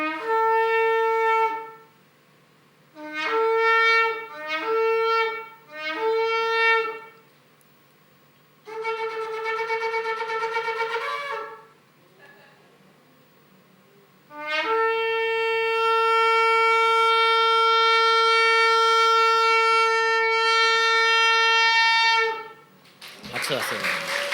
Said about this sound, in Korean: 저런 식으로 뿔나팔을 붑니다.